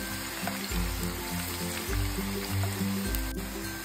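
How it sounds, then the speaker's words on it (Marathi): Potato sticks fry in a wide, shallow pan over a high flame, giving a steady close hiss of sizzling oil under a soft, rhythmic low background beat. "आता मोठ्या गॅसवरती आपल्याला हे फ्राय करून घ्यायचे आहे, दोन्ही बाजूने अगदी छान असे"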